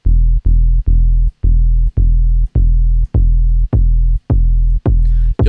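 Synthesized 808 bass in Ableton Live with a rising pitch envelope amount, a steady run of booming, punchy low notes with clicky attacks, about two per second, very loud and alone with no voices.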